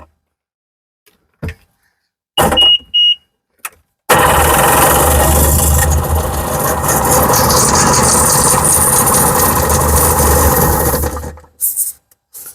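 A 2003 Sea-Doo GTI with a 717cc two-stroke engine cranks with a few short bursts, then catches and runs at a loud, buzzy, steady rasp for about seven seconds while its carburetors are fogged for winter storage, before dying out.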